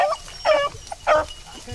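Hound dogs working a track outdoors give a few short, sharp barks and yips, close and distinct, with a brief pause between them.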